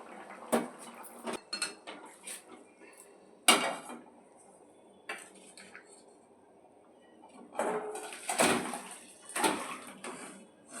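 Cooked egg curry being transferred into a bowl in a home kitchen, heard as a series of clinks and scrapes of a metal spoon and pot against the bowl, irregular and close, with a louder clatter near the end.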